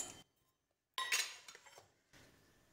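Groundnut, mint leaves, green chillies, tamarind, coconut and salt tipped into a mixer jar, giving a short burst of clinking and rattling against the jar, then softer settling clatter, with a near-silent pause before it.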